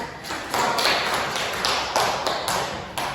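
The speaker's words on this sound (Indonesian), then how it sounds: "Tolong beri aplaus" Classroom applause from a group of students, a burst of rapid overlapping claps with uneven swells, fairly close and steady for a few seconds without any talking.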